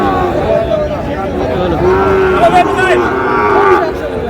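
Cattle, including Sahiwal bulls and calves, moo repeatedly amid a busy, noisy cattle market crowd, with people talking throughout over the lowing of several animals.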